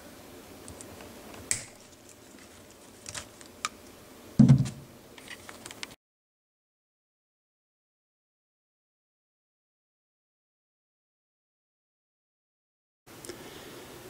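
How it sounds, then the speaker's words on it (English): Wire cutters snip the brown and blue wires of a Triumph Spitfire 1500 low-beam headlight relay circuit: a few sharp, close clicks spaced a second or so apart, the strongest near the middle, followed by a long stretch of silence. "So we're going to snip the brown and the blue wire."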